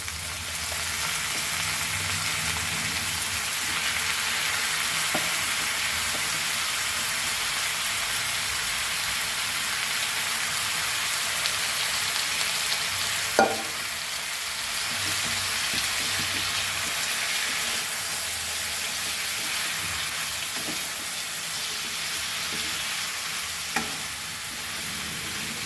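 Drumstick pieces fry in a pan for a Goan bhaji, with a continuous hissing sizzle throughout and occasional sharp clinks and scrapes of stirring.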